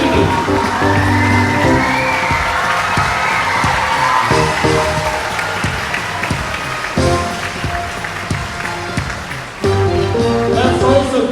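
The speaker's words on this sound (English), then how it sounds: "give another round of applause to the heart and soul of this production" A school theatre audience applauds and cheers the cast of a student musical production, with scattered whoops over sustained clapping. Music plays underneath with held tones that cut in and out, and the crowd noise swells and dips throughout.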